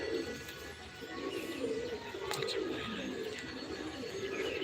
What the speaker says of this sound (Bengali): এই পায়রাগুলো আসছে এই সাইড থেকে